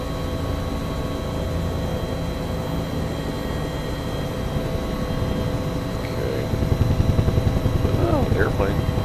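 Simulated Nimbus Huey UH-1 helicopter in X-Plane 11, a steady rotor and turbine drone running throughout, growing louder with a heavier thumping beat near the end.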